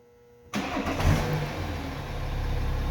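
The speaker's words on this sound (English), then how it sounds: "In a few seconds the car will start." A 2014 BMW 535d diesel engine fires up by remote start, a sudden cranking catch after silence that settles into a steady, rumbling idle continuing close by.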